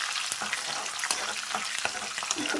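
Onions and curry leaves fry in a pan with a steady, dense sizzle and crackle throughout, broken by a few brief stirring scrapes; no voices.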